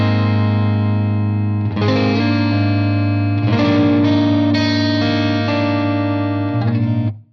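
A Stratocaster electric guitar with single-coil pickups plays through a Victory Sheriff 44 amp with gain at twelve o'clock, sustained crunchy chords ringing loud and alone, restruck several times with slight distortion before cutting off.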